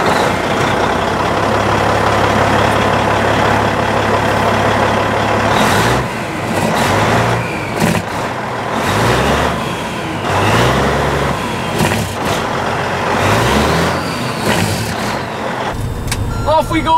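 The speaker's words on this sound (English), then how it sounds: "start it up, and see what it sounds like" A 2001 Peterbilt 379 truck with a Caterpillar engine runs loud and close, a steady low diesel drone that shifts into uneven revving pulses partway through, with talk over it.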